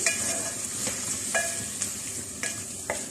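Nutmeg, mace, almond and poppy seed paste frying with chicken in a karahi, a steady close sizzle broken by several sharp spoon scrapes and stirs, with no talking.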